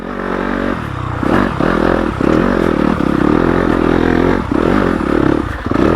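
A stock Yamaha YZ250FX dirt bike engine runs in second gear at low RPM, a loud close rumbling drone that rises and dips with throttle, with clattering and scraping from loose rocky ground.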